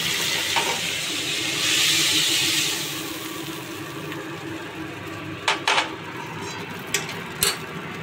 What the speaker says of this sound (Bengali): চিংড়ি মাছগুলো অল্প নেড়ে চেড়ে ভেজে নিয়ে